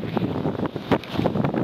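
Strong wind gusts on a mountain peak in the La Sal Mountains batter the microphone in loud, uneven rumbling bursts, a rough roar that rises and falls without any voices.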